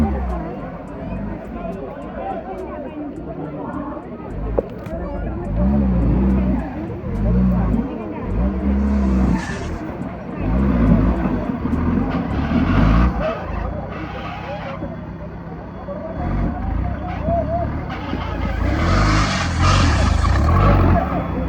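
Off-road rally vehicles race at the Kerala Adventure Trophy in Payyannur, with engines revving and surging loudly in repeated bursts, and tyres scrabbling and skidding on dirt. A crowd and voices talk throughout.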